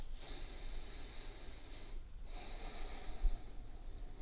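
Slow, gentle breathing during a relaxed tapping exercise: two soft, airy breaths close to the microphone with a short pause between them, and no talking.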